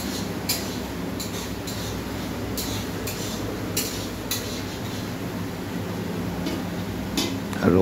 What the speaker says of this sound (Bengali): এখানে পেঁয়াজ ক্যাপসিকাম ভেজে নিয়েছে